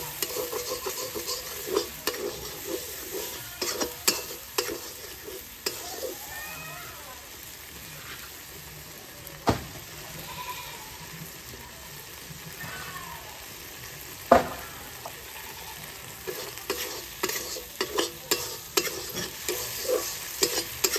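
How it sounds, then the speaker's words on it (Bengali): Spice masala frying in a pan with a splash of water, while frequent stirring scrapes and taps cut through a softer crackling sizzle underneath. "মশলার মধ্যে সামান্য জল দিয়ে নেব, যাতে মশলাটা ভালো করে কষা হয়।"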